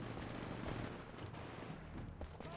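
Shotgun fire in the shooter game Titanfall, a dense, steady barrage of gunfire and combat noise running throughout at moderate level, with no talk.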